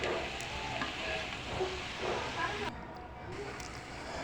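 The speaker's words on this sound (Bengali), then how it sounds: "দিয়ে এটাকে আমি অনবরত নেড়ে সুন্দর করে ভেজে নেব।" Onion leaves frying in a pan with salt and turmeric give a steady, close hiss, with soft stirring scrapes throughout.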